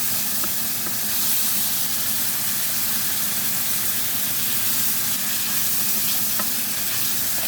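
Carbonara ingredients frying in a smoking pan, a dense continuous sizzle and hiss with occasional crackles, loud and close, steady throughout with no talk.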